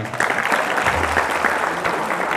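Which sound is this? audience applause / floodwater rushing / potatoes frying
audience applause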